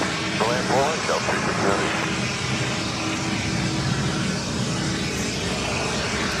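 A heavy jet airliner on approach to JFK runway 4 right makes a steady, loud engine roar throughout, with speech heard under it.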